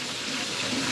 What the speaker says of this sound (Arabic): استنوا اما اصب شوية مية يا ولاد عشان نشرب